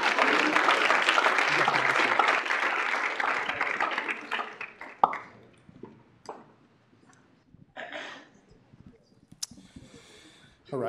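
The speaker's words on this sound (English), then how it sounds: "If we could give our new senators a round of applause." A room at a student government meeting applauds new student senators, dense clapping for about four seconds that thins into scattered claps and then quiet with small noises.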